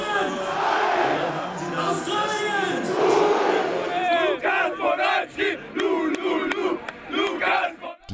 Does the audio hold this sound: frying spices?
no